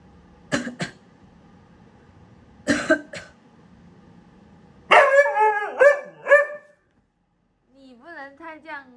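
A husky gives a few short, rough coughs spaced apart, followed by a burst of throaty barking and yelping vocal sounds, then a softer whining howl, all close and fairly loud.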